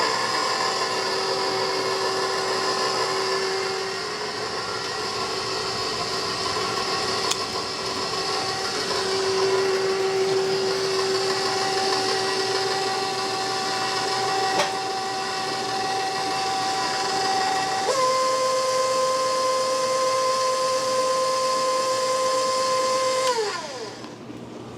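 Electric mixer blending flour mixture into banana bread batter, a steady loud whir running without a break for the full stretch, its pitch shifting at a couple of points as the speed changes, then cutting off at the end.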